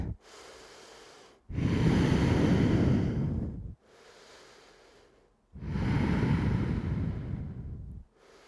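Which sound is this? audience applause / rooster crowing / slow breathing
slow breathing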